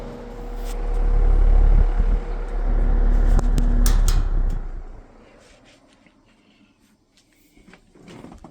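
A window box fan runs with a steady low motor hum and a thin whine, fairly loud for about five seconds, then fades to near quiet with faint handling clicks.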